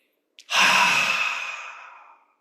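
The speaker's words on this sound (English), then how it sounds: "Now we will do deep breathing together." One deep breath drawn in through the nose sounds close and airy during a guided breathing exercise, then fades slowly over about two seconds. There are no voices.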